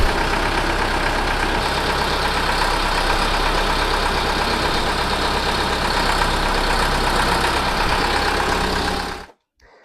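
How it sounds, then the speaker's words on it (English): A tractor engine idles steadily, driving a slasher mower through a newly fitted PTO shaft, a dense, constant mechanical drone with a low rumble that holds evenly for nearly ten seconds before cutting out abruptly. "the mower's now back in action"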